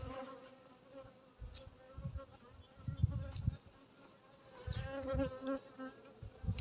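Honeybees buzz thickly and close around an open hive with loose comb, a steady droning swarm that swells and fades in waves.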